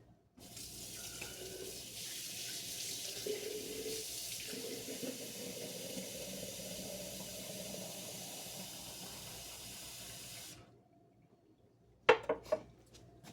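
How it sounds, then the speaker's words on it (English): Tap water running steadily into a sink to rinse out a sourdough starter jar, a close, even rush that stops abruptly, followed by a couple of sharp glassy clinks. "you can rinse your jar really good and toss it outside"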